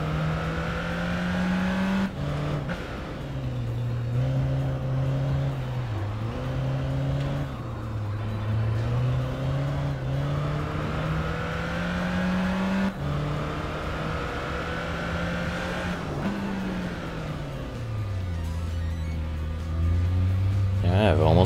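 Motorcycle engine in the Tourist Trophy racing game during a Street Machine Cup race, holding a steady loud drone whose pitch rises and falls through gear changes and revs, with a sharp downshift near the end, no speech.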